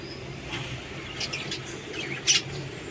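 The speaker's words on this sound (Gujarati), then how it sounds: "મસ્ત પાડેલા પોપટ છે જો કેટલા સરસ છે" Pet parrots chirp in a few short, sharp bursts over a steady background hum at a house. The brightest squawk comes near the end.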